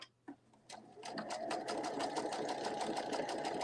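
A sewing machine stitching at a steady fast rhythm, starting after a couple of clicks and running continuously at even volume, moderately close with a low hum beneath.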